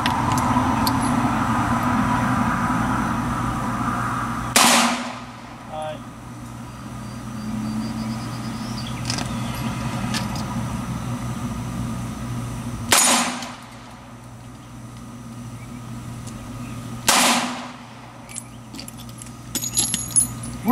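Three sharp, loud reports from a Beretta U22 Neos pistol fired at steel targets, spaced several seconds apart, with a steady low engine-like hum and faint background noise in between.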